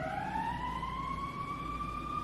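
A city emergency vehicle siren wails steadily, rising slowly in pitch, loud and continuous over low traffic rumble on a freezing Midwest street.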